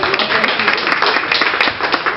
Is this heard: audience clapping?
yes